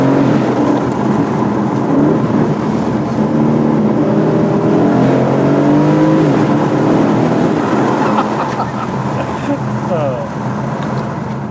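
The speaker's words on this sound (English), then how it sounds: "I really want to hear this V8." An Aston Martin DB11 V8 revs loudly and steadily from inside the cabin with the windows down, its engine note climbing through rising pitch sweeps over several seconds while a voice speaks over the rumble.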